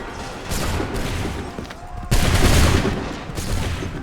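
A musket volley erupts in the video game Assassin's Creed 3, with a crackling burst of massed gunfire followed by a second, louder and denser volley, booming and continuous at close range.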